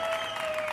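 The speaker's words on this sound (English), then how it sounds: "Let me give you some applause" Short burst of recorded applause played as a sound effect, a brief wash of clapping and crowd noise at moderate loudness.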